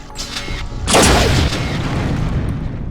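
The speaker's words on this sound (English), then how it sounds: "You can also load up rockets by holding down primary fire." Rocket launcher firing a loaded volley of rockets in the game Unreal, a loud close booming whoosh with a sharp onset that trails off into a long rumbling tail, with no talk.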